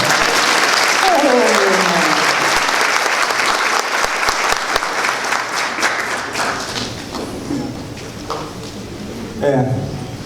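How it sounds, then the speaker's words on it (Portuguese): An audience applauds a birthday person at a spiritist seminar, with loud, dense clapping that fades slowly. A voice speaks over the applause near the start and again at the end. "Uma salva de palmas para o aniversariante."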